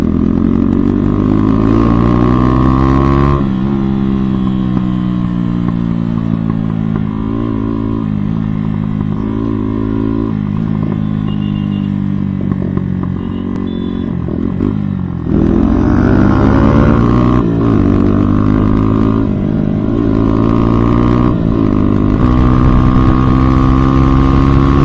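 A Bajaj Pulsar NS200 motorcycle fitted with an Akrapovic aftermarket exhaust revs up close, its loud engine note rising and falling through repeated throttle blips with a brief idle dip in the middle.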